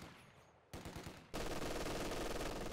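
An MG42 machine gun in Company of Heroes 2 opens fire after a short pause, a loud, dense, continuous rapid burst that abruptly fills the scene and keeps going.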